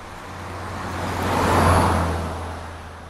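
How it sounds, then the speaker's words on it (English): A single car drives past on a road, its broadband rumble swelling to a peak near the middle as it goes by and then fading, with a steady low engine hum throughout and no voices. "the pitch of the sound, which changes at the moment the car passes by."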